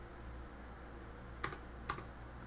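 Computer keyboard typing during a live coding and debugging session, two quiet, sharp key presses heard close against a low steady background hum, with no talking.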